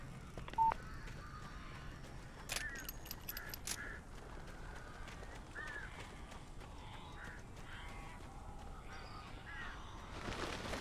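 Crows caw in the game Alan Wake, several scattered harsh calls over a quiet, noisy background, faint overall with a short electronic tone early on.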